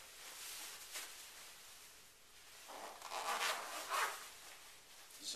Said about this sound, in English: Zip it up all the way through the mask.